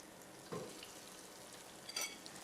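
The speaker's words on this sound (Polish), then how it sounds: "A ja je będę smażył na patelni" Faint, steady sizzling of potato pancakes frying in a pan, with a couple of soft scraping stirs.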